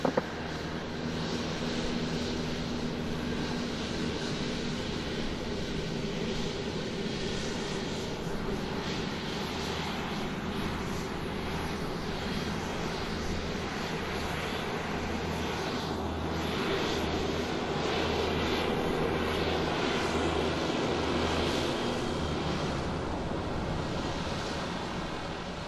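An Aeromexico Boeing 777 airliner taxis, its engines a steady, broad roaring hum with a low rumble that holds for nearly half a minute, fairly loud and unbroken, with no talk over it.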